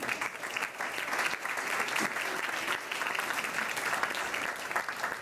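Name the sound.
audience applause for a speaker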